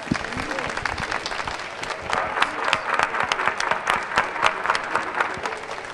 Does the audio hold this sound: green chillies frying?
no